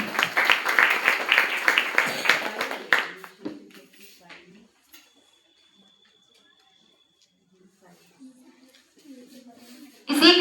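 Audience applause at a school celebration, a burst of clapping for roughly three seconds that quickly dies away, followed by near silence, faint speech, and a loud sound at the very end.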